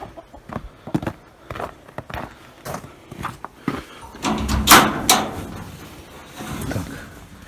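Hens cluck on and off nearby, mixed with footsteps and the scrape of a door sliding open partway through.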